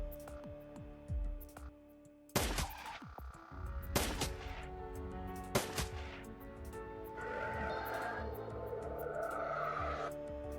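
Pistol shots in the Shadowrun video game crack out as several sharp separate bangs spaced a second or two apart over game background noise and music, loud and close.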